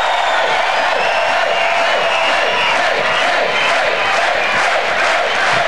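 A dense stadium crowd at the 2004 Berlin beach volleyball Grand Slam final roars and cheers continuously, loud and sustained, as fans rise to their feet.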